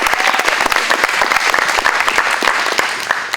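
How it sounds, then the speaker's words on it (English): A room of students claps for district champions, a dense burst of many hands at steady loudness with no voices standing out. "I want to give you guys a round of applause"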